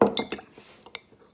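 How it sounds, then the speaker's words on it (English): A fork stirring water into sourdough starter in a glass jar, with quick close clinks and scrapes of metal against glass over a little over a second. "And then I stir it with a fork."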